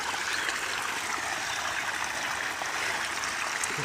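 Irrigation water flows steadily into a jujube field, a continuous close rushing and trickling wash with no pauses and no voices.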